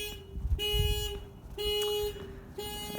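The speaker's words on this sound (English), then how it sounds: "That's an unfortunate car alarm." A car alarm blares outside a mobile home park in repeated steady tonal blasts, each about a second long with brief gaps, moderately distant and loud.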